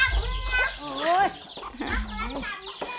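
Chickens cluck and call up close in quick, rising bursts, with a few overlapping squawks over a quiet farmyard background.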